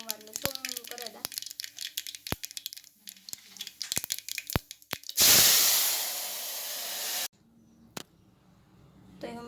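Cumin and asafoetida hit hot oil while tempering a cluster bean curry, giving a loud, sudden sizzling hiss that lasts about two seconds and then fades. Before it come people talking and some clattering.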